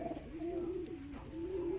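Young racing pigeons in a loft coo softly and repeatedly, low rolling coos close by over faint steady background noise.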